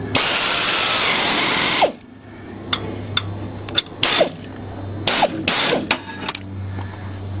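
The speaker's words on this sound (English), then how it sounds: "Now just to put the crankshaft bolt on." Tightening the crankshaft bolt on a lawn tractor engine begins with a loud continuous mechanical whir for about two seconds, then gives way to a series of short, sharp clicks and clacks with a low hum beneath.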